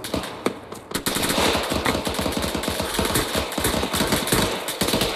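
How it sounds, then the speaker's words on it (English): Dense, continuous automatic gunfire from several weapons in an Arma 3 infantry battle, rapid overlapping bursts close by with sharp single cracks, loud and sustained throughout with no talk. "Let's keep firing."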